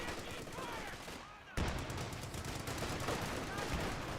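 Pack howitzer artillery fire in Company of Heroes 2, with loud, dense battle blasts and gunfire that thump hard after a brief quieter gap, mixed with machine-gun chatter and game noise.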